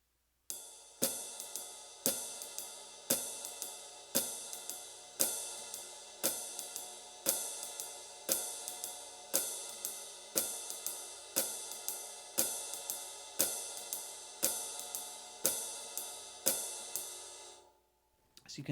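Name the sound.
swing jazz drums with accented ride cymbal note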